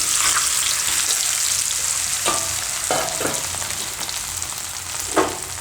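Boiled potatoes dropped into hot oil with cumin sizzle loudly and steadily up close, with a few scraping stirs and light knocks breaking through the continuous frying hiss.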